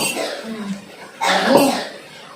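Someone coughs sharply in a home setting during a Christmas-time family vlog. Voices murmur faintly at first, then one loud harsh cough bursts out near the microphone, followed by breathy trailing sounds.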